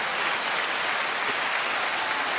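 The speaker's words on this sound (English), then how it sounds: "9-second applause." Steady, dense clapping from a studio audience welcoming a guest onto a talk show, a uniform wash of applause at even loudness with no voices over it.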